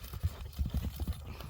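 Hooves of a horse being ridden at a Kyrgyz horse sale clip-clop in a quick irregular patter, fairly close and moderately loud, with no talk over them.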